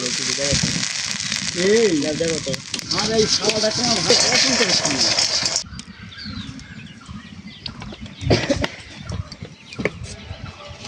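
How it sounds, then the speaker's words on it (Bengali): Corn kernels frying in oil make a dense sizzle for the first half, then it drops to a quieter crackle. A person talks over the cooking throughout. "তো এইভাবে করে আমরা সব ভাজা নিব ভুট্টাগুলা"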